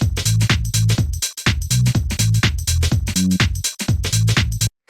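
A Detroit house rhythm section plays back loud and full, punchy kick and snare with crisp hats and percussion in a steady four-on-the-floor groove, cutting off abruptly at the end.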